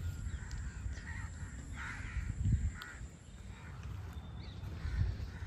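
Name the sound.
crows cawing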